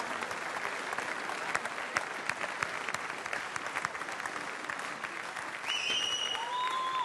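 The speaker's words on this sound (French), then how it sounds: "je vous demande d'applaudir" Applause from the audience at the 2013 Coupe du Monde de Pâtisserie, a loud, dense and steady wall of clapping that keeps going throughout, with a few sharp whistles rising near the end.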